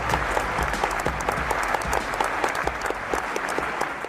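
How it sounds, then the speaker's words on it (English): An audience applauding a speaker, a dense, steady round of clapping from a large crowd that runs loud and unbroken throughout, with no voices over it. "So warm round of applause for Mr. Jay Acunzo."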